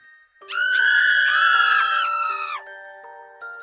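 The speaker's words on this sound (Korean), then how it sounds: "그 여자를 목격한 우리들은 약속이나 한 듯 동시에 소리를 질렀습니다." Several people scream in fright together as a horror story sound effect, a loud, sustained, shrill cry lasting about two seconds, then falling off as a lower tone lingers.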